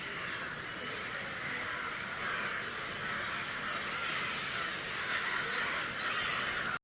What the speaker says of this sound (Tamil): அதில் எல்லாம் காக்கா உண்டு.